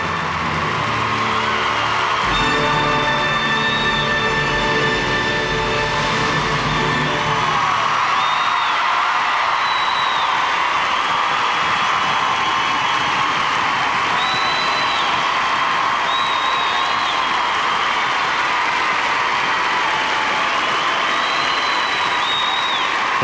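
Steady sustained applause and cheering from an arena crowd giving a standing ovation after Elvis Stojko's free skate at the 1999 Four Continents Figure Skating Championships, with whoops rising above it; music is heard briefly early on.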